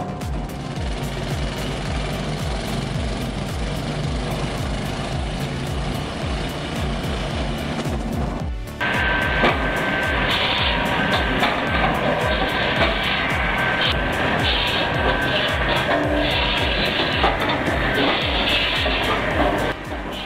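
A powerful wood chipper driven by a 4.4 litre diesel engine runs loud and close with a steady throbbing drone, then jumps abruptly to a harsher, louder pitch partway through and keeps running.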